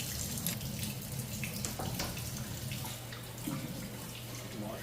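Tap water runs steadily into a kitchen sink while a pork steak is rinsed under it, a faint, continuous splashing with a few soft drips and clunks.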